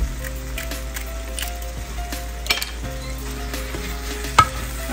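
Steady sizzling of green chillies cooking with keema, potato and aubergine in a pan, with a few faint clinks of a utensil, close up and without talk.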